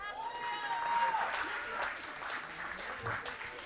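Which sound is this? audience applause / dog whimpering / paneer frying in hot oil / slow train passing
audience applause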